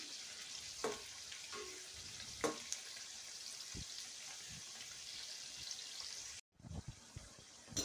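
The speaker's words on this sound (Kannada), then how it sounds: "ಒಂದು ಸರ್ತಿ ಎಣ್ಣೆ ಕಾದ್ಮೇಲೆ ಮೀಡಿಯಮ್ ಫ್ಲೇಮಲ್ಲೇ ಬೇಯಿಸ್ಕೊಳ್ಬೇಕು" Jackfruit pakoda frying in hot oil over a medium flame, with a steady low sizzle, a few sharp clinks and scrapes from stirring, and a brief drop to silence near the end.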